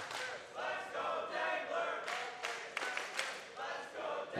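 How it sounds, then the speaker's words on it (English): A tournament crowd at the 2024 Classic Tetris World Championship semifinal stirs and swells in a steady roar, with a few sharp thumps and claps breaking through near the end. "You can already hear the crowd starting to get riled up as Dengler fighting for his tournament life"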